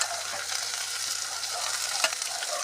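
Green chili, onion and tomato frying in a pan on a low flame, giving a steady, fairly soft crackling sizzle with faint stirring taps, no voices.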